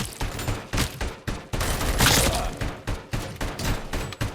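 Rapid gunfire from a RoboCop: Rogue City shootout, a dense volley of loud, sharp shots repeating in quick bursts across the whole stretch, with heavy thumping impacts and no talking.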